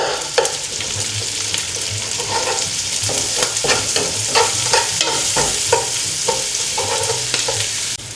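Pork cubes sizzle loudly in a hot pan while being sautéed for ginisang upo with pork. Repeated clattering strokes of a stirring utensil run over the constant, close frying hiss.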